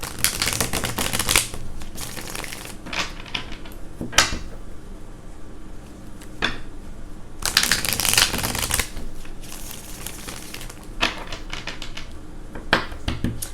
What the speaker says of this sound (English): A lot of you guys have commented on the shuffling.